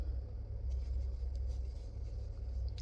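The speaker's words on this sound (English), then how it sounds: "Sorry if y'all hear cars in the background." Cars pass by in the background outside during a crochet session, a soft continuous low road rumble that swells and fades faintly, with no talk over it.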